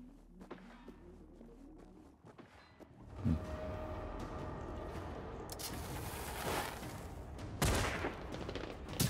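Rockets fired at robots in the video game Generation Zero, a rapid volley of sharp blasts and bangs following a quieter opening with scattered clicks, then a sustained roar of explosions with a couple of louder booms near the end.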